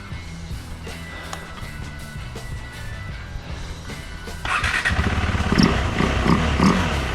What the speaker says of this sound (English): We got fuel going to the engine.